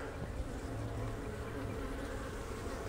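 Honey bees hum in a dense, steady drone on hive frames during a hive inspection, faint and continuous throughout.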